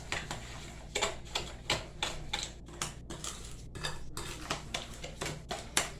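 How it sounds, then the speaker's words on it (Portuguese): A utensil clinks and taps rapidly against a bowl while eggs and other ingredients for Hungarian bread are mixed, giving a close, busy, irregular rattle over a low hum. "Vou misturar um pouquinho aqui para unir bem esses ingredientes"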